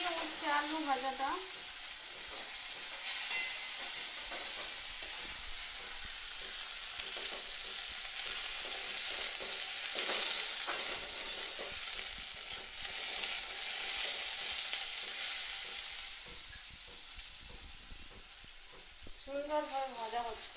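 Young bitter gourd and potato slices sizzle plainly in hot oil, unseasoned, a dense continuous hiss with faint crackles and stirring throughout, and a voice speaking briefly at the start and end.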